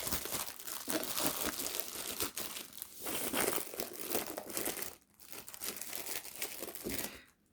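Crinkly plastic protective wrapping around an Aston Martin Valkyrie AMR LMH Le Mans hypercar scale model is crumpled and torn up close, with continuous rustling and crackling bursts and a brief pause midway.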